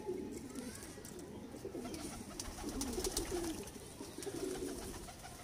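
Salara teddy pigeons coo in a steady, overlapping chorus of low, throaty calls that run continuously at close range, with a few faint higher chirps in the background.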